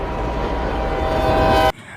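A train in the 2017 animated film Ferdinand roars along with a loud, dense rumble and hiss that holds steady and then cuts off abruptly near the end.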